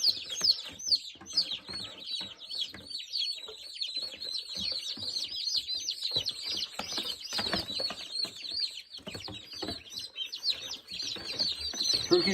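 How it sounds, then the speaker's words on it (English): A flock of bronze turkeys on a small farm keeps up a dense, continuous stream of high chirps, peeps and clucks, close and moderately loud with no voices over it. "These are bronze turkeys."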